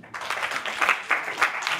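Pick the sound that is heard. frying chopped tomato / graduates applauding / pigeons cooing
graduates applauding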